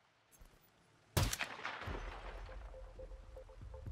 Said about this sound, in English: We're going to shoot her through the wall.